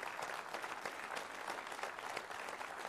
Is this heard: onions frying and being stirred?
no